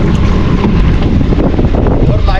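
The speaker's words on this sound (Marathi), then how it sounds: "वारा पण थोडासा वाढला आहे." Strong wind roars across the microphone on a fishing boat at sea, out in deep water off the Bandra–Worli Sea Link during a pomfret catch, a loud, constant buffeting rush with faint voices beneath it.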